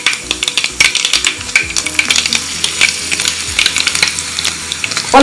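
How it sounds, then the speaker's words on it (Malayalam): Mustard seeds and cumin spluttering in hot oil for a quick tomato curry: loud, close crackling with rapid irregular pops and sharp snaps, with no voices. "ഇതിലേക്ക് നമ്മൾ കടുകും ജീരകവും കൂടി എടുത്തു വെച്ചത് ഇട്ട് കൊടുക്കാം."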